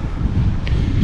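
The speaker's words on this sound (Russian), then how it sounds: "Ветер сам по себе, он не холодный, но очень быстрый" Strong, fast wind on the Corbels Canyon trail buffets the microphone in a brief, low, rumbling gust with no voices.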